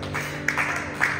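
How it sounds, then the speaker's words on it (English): A church congregation at an evening service breaks into brief scattered clapping, a short patter of hands over a low room hum with no voices. "I hope you'll clap for me when I say this"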